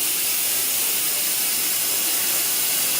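Steam hisses steadily and loudly from an Instant Pot pressure cooker during its pressure release, a dense continuous rush with no pauses and no voices over it.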